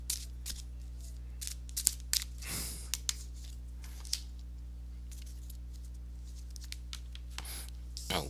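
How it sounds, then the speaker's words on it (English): Chakra oracle cards being shuffled: soft, scattered card flicks and slides, very quiet and close, over a low steady hum, with one or two fuller riffling bursts. "let me give a chakra oracle card a shuffle"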